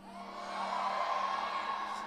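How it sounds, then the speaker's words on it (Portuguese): A church congregation shouts together in one sustained, loud collective yell after a preacher's call, with a broad crowd roar that swells and holds for about two seconds. "Só quem recebe dá um grito bem alto."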